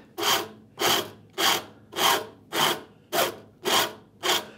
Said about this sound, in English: Take out the bulk with the heavier rasp.